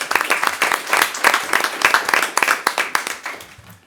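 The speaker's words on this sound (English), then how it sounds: "Let's give him a round of applause." Audience at a school board of education meeting applauds after wrestlers are recognized, a dense burst of clapping that holds steady for several seconds before starting to thin out.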